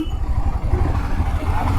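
A Himalayan 411 motorcycle with a top box rumbles as it pulls away, giving a close, loud, pulsing low engine throb with road noise.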